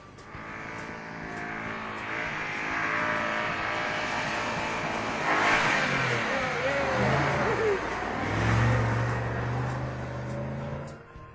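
A Range Rover engine revs hard as it claws through sand off-road in Moab, Utah, building to loud surging roars with shifting pitch and throttle bursts, no voices heard.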